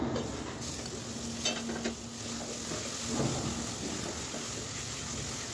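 Masala of turmeric, coriander powder and ground cumin paste sizzles in a pan under repeated stirring, a steady close crackle with soft scraping and no talk.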